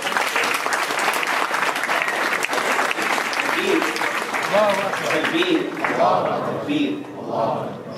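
An audience at an Islamic talk show event gives a loud round of applause, dense clapping with scattered voices and shouts rising over it toward the end.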